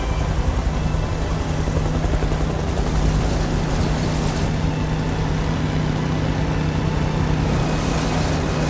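Helicopter hovering in the Beyond Two Souls video game, a loud, constant rotor thrum and engine roar that holds steady for the whole stretch with no voices over it.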